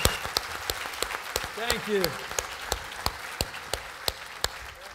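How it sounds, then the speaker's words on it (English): Sparse, sharp claps from a small audience welcome a chef to a live seafood cooking demonstration. The claps come as spaced single hits rather than a full roar, and someone briefly speaks over them. "how about a thunderous round of applause"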